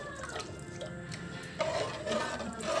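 Water is poured into a cooking pot while making tomato bath, a soft splashing trickle that grows a little louder near the end, close by, with no talking.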